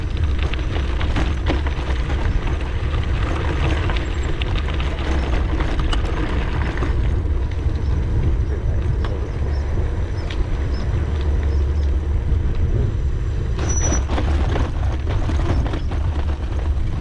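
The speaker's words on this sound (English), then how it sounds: "Sounds like completely busy roads." Busy road traffic on Orkney gives a continuous loud wash of engine rumble and tyre noise throughout, with passing vehicles swelling and fading.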